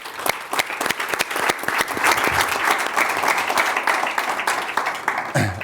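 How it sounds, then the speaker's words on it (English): A conference audience applauds the speakers after an energy-transition debate, dense sustained clapping from many hands filling the room for several seconds before tapering at the end. "join me in saying thank you and clapping a lot for our speakers"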